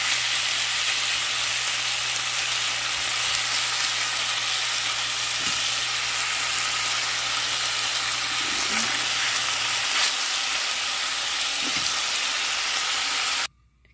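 Homemade chicken soup simmering in a pot is stirred, with a steady bright bubbling hiss throughout, faint scrapes and knocks of the spoon, and a low hum that drops away before the sound cuts off abruptly at the end.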